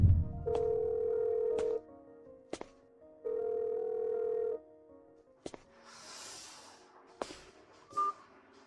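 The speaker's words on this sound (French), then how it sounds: "Comment le numéro de téléphone de Monsieur Sean est-il devenu hors service" A telephone out-of-service tone plays as two long steady electronic tone bursts, separated by sharp clicks, followed by a short hiss and further clicks.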